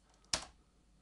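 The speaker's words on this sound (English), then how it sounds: "I'll open the editor by pressing Ctrl E on the keyboard." A single crisp computer keyboard key press sounds close and quiet against a near-silent room, one short click with no voices.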